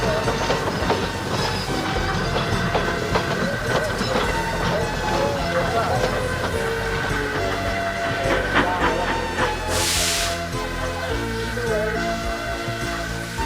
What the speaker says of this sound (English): There's Thomas, who wanted to pull a train